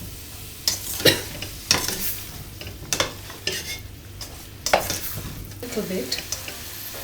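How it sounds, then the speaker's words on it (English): Boiled potatoes being stirred into fenugreek leaves frying in oil for aloo methi, giving soft scraping stir strokes and clinks of a utensil against the pan over a low sizzle, with a brief murmur of speech. "they're going to go in there and mix them"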